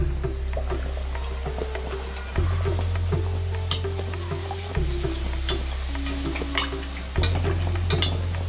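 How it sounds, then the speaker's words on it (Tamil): Bhatura dough frying in hot oil in a pan, a steady close sizzle with soft crackles and occasional stirring clinks over a low hum, no talking. "எண்ணெய் சட்டியில் சேர்த்துரும்."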